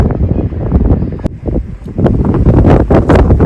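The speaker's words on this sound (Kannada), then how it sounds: "ಫುಲ್ಲು ಗಾಳಿ ಹಿಂಗೆ ಹೊಡೆಯುತ್ತಿದೆ" Strong wind blows across a hilltop on a trek at Kemmannugundi, a loud, gusty roar buffeting the microphone continuously with brief dips between gusts.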